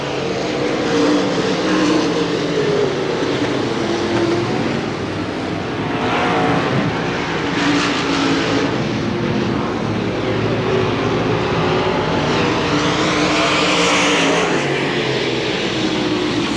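Race cars roar around the Hamilton County Speedway dirt track at the finish of the 1993 Winston 50, engines droning loudly and continuously with passing swells, close and steady throughout.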